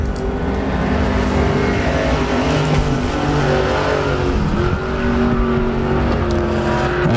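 An IMCA stock car runs a qualifying lap at a speedway in Arizona, its engine roaring loud and continuous with shifting pitch as it accelerates and lifts around the track.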